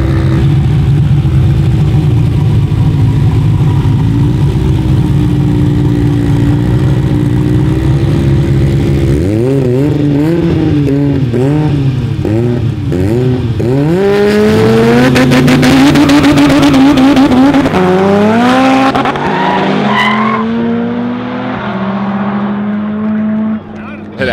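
Drag race cars at a one-on-one drag racing event rumble at the line, then launch and rev hard through rising, shifting engine tones, loud and close, with a commentator talking over them.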